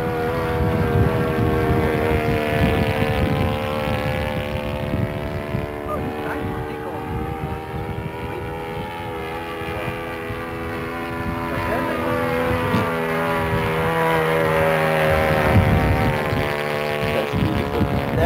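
Engine of a low-wing RC model Piper Cherokee airplane in flight, a steady high buzzing drone that shifts in pitch as it passes low and near, with wind noise and people talking over it throughout.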